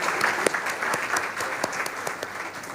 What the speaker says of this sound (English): please give good applause to all these panelists